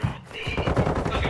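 Rapid automatic gunfire in a video game during a college esports match, sounding as a dense, continuous rattle of shots, loud and close, with no clear speech over it.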